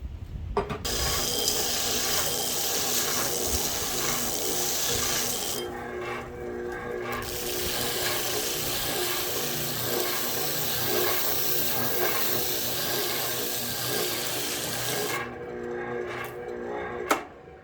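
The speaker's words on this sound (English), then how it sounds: "after just a few minutes on this oscillating spindle sander, you can see we've almost done away with the gash here" An oscillating spindle sander whirs as a carpenter's hammer is shaped into a camp hatchet, a loud, continuous hissing drone with a brief dip partway through and a few short breaks near the end.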